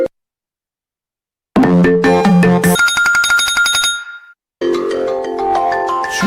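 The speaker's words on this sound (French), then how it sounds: "il met les sonneries snap" A Snapchat-style phone ringtone plays loudly and alone, a bright melodic sequence of tones that stops briefly, then resumes with a fuller chiming pattern.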